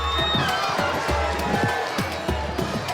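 A crowd gathered outdoors to greet President Bassirou Diomaye Faye, a steady wash of many voices and cheering close by, with repeated thumping footfalls and bumps running through it.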